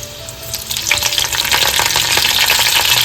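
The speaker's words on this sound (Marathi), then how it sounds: "इकडे आपण लसूण घालून घेतोय सात आठ आपण लसणाचे पाकडे तुकडे करून घेतल्या होत्या तर घालून घेतले मस्तपैकी यांना परतावून घ्यायचे करीपत्ते घालते" Garlic pieces and curry leaves crackle and sizzle in hot oil for a tempering, a dense, steady frying hiss that swells louder after the first second and holds close and continuous with no talk.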